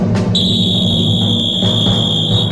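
A football referee's whistle starts the second half of a match in a cartoon, giving one long, steady, piercing tone over a thick bed of crowd and background noise.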